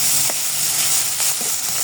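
Bitter gourd fries in oil, giving a brief, loud, steady hiss of sizzling with a couple of soft pops, close up and without talk.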